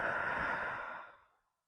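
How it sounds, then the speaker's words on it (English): A single long, soft exhale through the mouth, close to the listener, during a gentle lymphatic exercise routine for lipedema, fading out smoothly to silence. "One more time, inhaling in and exhaling out."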